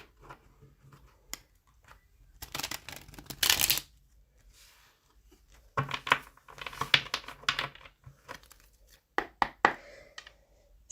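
Tarot cards being shuffled during a love reading, several bursts of riffling and shuffling separated by pauses, close and crisp with no talking.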